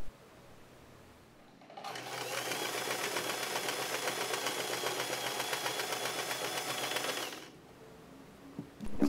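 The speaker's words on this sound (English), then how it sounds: "Sew this to securely attach it to the bow." Sewing machine stitching a fabric centerpiece onto a sailor bow, one continuous fast, even whir of about six seconds, close and moderately loud, with quiet before and after.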